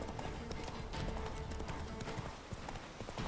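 Roach, a horse in the video game The Witcher 3, trots with a steady, close clip-clop of hooves over a constant rustling ground noise, with no voices.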